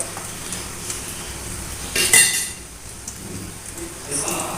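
A spoon scrapes and stirs boiled chickpeas through a pan of frying seasoning, with a soft steady sizzle underneath and a sharp metallic clink of the utensil against the pan near the middle.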